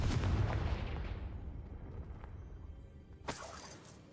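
In the Hogwarts Legacy video game, a Confringo blasting spell goes off as a booming burst that fades into a decaying rumble, followed by a sharper crack near the end.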